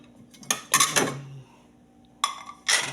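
Ceramic plates and metal cutlery clink and clatter as a household plate is set out for breakfast, a few close, bright knocks in two quick clusters separated by a brief pause.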